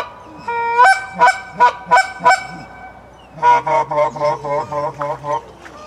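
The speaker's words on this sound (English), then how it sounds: "Here come four geese." Several geese honk loudly and close by in two bursts, first a few widely spaced harsh calls, then a faster run of rhythmic honks, with faint talk in the background.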